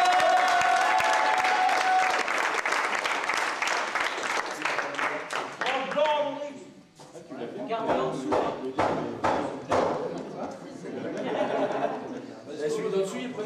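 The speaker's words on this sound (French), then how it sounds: "Applaudissons Julien Boudry." Spectators at an internal individual palet tournament in Saint-Piat applaud player Julien Boudry with a run of clapping that thins out, mixed with crowd chatter and some chuckling.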